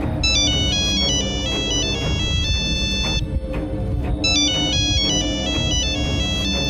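A mobile phone rings with a repeating electronic ringtone melody, loud and close, playing in two bursts separated by a short pause, with no talking.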